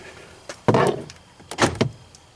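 A screwdriver turns the door lock on a Ford Transit van, giving a few short metallic clicks and clunks in two brief bursts close by, with no voices.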